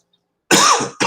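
A single harsh cough, followed by a second shorter cough right after, close and loud after a moment of silence.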